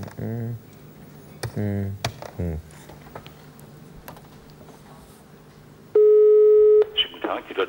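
A single steady ringing tone, about one second long, sounds on a telephone call to Deutsche Bank. It follows a stretch of someone speaking and is clear and fairly loud on the line.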